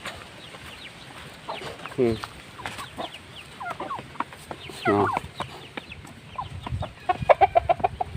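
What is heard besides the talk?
chickens clucking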